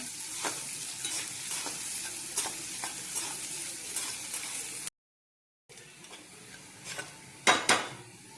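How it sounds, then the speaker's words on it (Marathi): Onion and whole spices fry in hot oil for a dried prawn curry, a continuous close sizzle broken by repeated stirring and scraping of a utensil against the pan, a brief gap of silence, then louder clanks near the end. "आता कांदा आपण तळून घेऊ तेलामध्ये। खडे मसाले, कांदा,"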